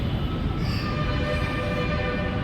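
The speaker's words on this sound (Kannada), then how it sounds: "ಮೆಟ್ರೋನಲ್ಲಿ ನಾವಿವಾಗ ಹೋಗ್ತಾ ಇದ್ದೀವಿ" A metro train runs with a steady, loud rumble and rolling wheel noise heard from inside the carriage, continuous throughout with no voices.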